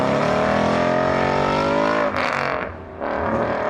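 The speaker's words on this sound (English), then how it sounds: "Here are some examples of a V8 in action." A V8 car engine roars loudly with a rich harmonic tone whose pitch slowly drops, then breaks into gear-change dips and a brief lull before picking up again, no voices.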